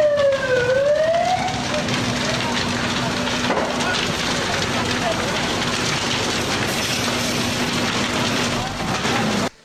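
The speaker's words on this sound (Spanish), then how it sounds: "Estas llamas corresponden a un fuerte incendio estructural" A large structural fire consuming homes and businesses in central San Salvador roars and crackles as a steady dense rush, while an emergency siren wails at the start, with voices faintly mixed in.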